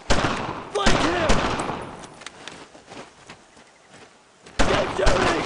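Gunfire in the World War II shooter Brothers in Arms: Road to Hill 30, sharp rifle and machine-gun bursts cracking loudly in clusters with quieter stretches between and voices shouting over the action.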